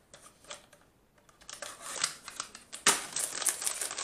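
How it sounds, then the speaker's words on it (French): Packaging around a small 50 ml product is unwrapped, with soft crinkling that grows into louder rustling and tearing near the end, close and without talk. "je vais vous le déballer pour vous montrer"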